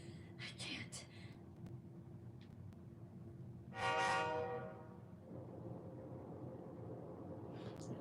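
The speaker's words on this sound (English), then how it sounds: "Inside the new city passenger train, Hazuya." City passenger train in the Persona 3 Portable video game, a loud horn-like tonal burst over steady rumbling rail noise, with a faint voice and game sounds around it.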